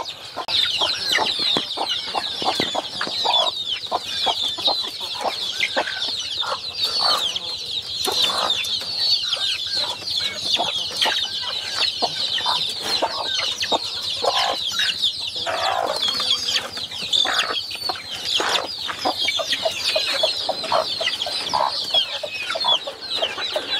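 Many hens and one-week-old chicks cluck and peep continuously nearby while eating melon, a dense chorus of soft clucks and high chick cheeps with scattered clicks and rustling.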